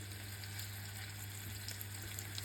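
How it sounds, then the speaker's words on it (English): Brussels sprouts frying in duck fat in a pan give a soft, steady sizzle with a faint crackle, fairly quiet and continuous, with no talking. "It's starting to get a little bit of a sizzle going on."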